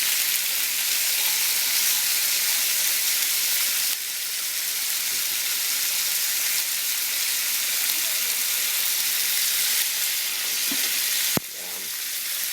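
Steak sears in a hot pan, a broad, steady sizzle filling the scene, with a sharp click near the end.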